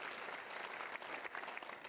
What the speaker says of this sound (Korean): 다시 주님 앞에 영광의 박수 한번 돌려드립니다.